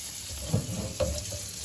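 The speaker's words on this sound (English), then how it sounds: "We just want to rinse this with cool water." Cool tap water runs quietly over a seasoned pork belly being rinsed for bacon, a soft steady splash with a couple of brief louder spatters as the meat shifts under the stream.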